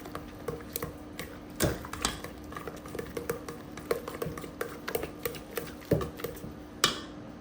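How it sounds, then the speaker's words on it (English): Gel for a gluten-free sourdough loaf is stirred in a bowl, giving quiet, irregular clicking and tapping strokes with no talking. "let's mix the gel first"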